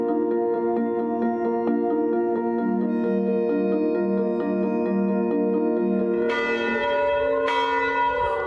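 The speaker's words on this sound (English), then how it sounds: "Church bells ring at St. Bartholomew's in Elmhurst, calling parishioners inside, calling them home." Church bells ring at St. Bartholomew's in Elmhurst, Queens, in a loud, sustained peal of overlapping tolls whose resonant tones linger, with fresh strikes entering near the end.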